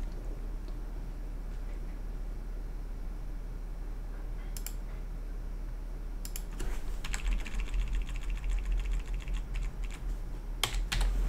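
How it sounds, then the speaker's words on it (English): Typing on a computer keyboard, a steady run of quick close key clicks that grows busier and louder in the second half, with no talk. "Make it easier to type it all in"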